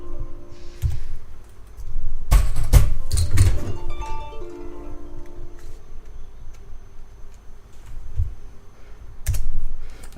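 Keystrokes on a computer keyboard while configuring a Cisco router, heard as scattered clicks with a dense burst of fast typing in the middle and a few isolated taps later, close and fairly crisp.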